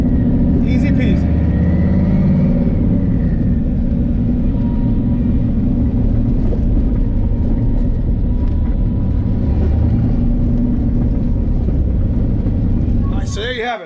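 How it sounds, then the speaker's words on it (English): A street-driven car fitted with a faceplated Tremec TKO racing transmission runs with a steady, loud, close engine and drivetrain drone throughout, with faint rattles from the cabin and a brief clunk at the end. "Driving a racing transmission on the street, faceplated TKO Tremec transmission."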